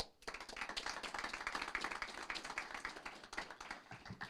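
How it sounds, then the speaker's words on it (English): A city council meeting audience applauds, dense steady clapping from many hands that starts abruptly and carries on throughout, fairly distant and even. "let's give them another round of applause"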